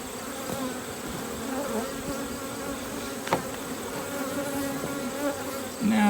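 Honey bees swarm around an open hive box, a steady, dense buzzing that is close and fairly faint, with a brief click partway through and no talk.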